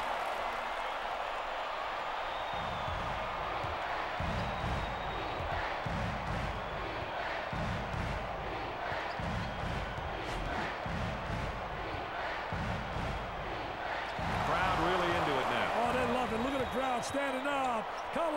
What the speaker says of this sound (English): Listen to the crowd. They're loud.